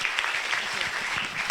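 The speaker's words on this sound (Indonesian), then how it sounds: "kita akan beri tepuk tangan dulu" Audience applause at a Study in Taiwan education seminar, a brief, dense patter of clapping from the crowd, moderately quiet and continuous.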